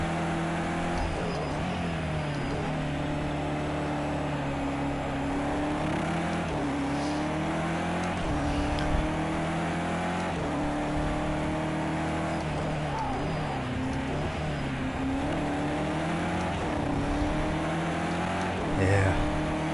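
Porsche and BMW race cars in a racing video game at Oulton Park International, engines droning steadily with rising and falling revs as they run close together, tires hissing under a continuous mechanical roar.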